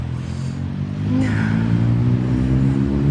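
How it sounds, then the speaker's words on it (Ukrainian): A moped passes by outdoors, its small engine note rising and buzzing louder as it draws near, heard against a steady low background rumble. "Мопед, мопед."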